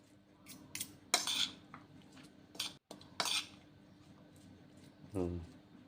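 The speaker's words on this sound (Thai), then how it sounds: "คลุกเคล้าให้เข้ากันนะครับเพื่อนๆ" Utensils scraping and clinking against a bowl while mixing spicy fermented pork salad, scattered bursts of clatter with quiet pauses between them, ending with a short voiced sound.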